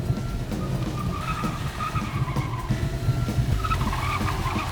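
Car tires skid and screech as a fleeing car reverses during a police chase with pursuing interceptor cars, a continuous rumbling engine and tire noise with rising squeals near the end, close and loud without talk.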